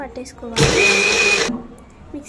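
A kitchen mixer grinder whirs loudly in one short burst of about a second, its steady motor whine starting and stopping abruptly, with speech just before and after.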